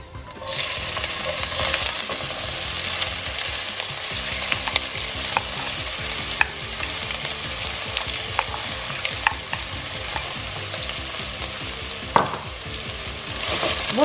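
Onions and whole cumin frying in a pot over medium heat, a continuous close crackling sizzle with occasional faint clinks and one sharper knock near the end, no talking.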